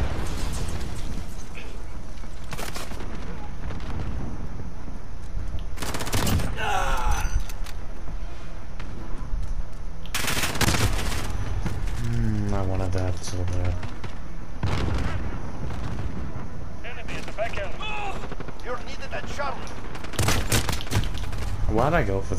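Shooter video game gunfire in repeated loud bursts and bangs, separated by quieter gaps, with game voice lines and chatter mixed in.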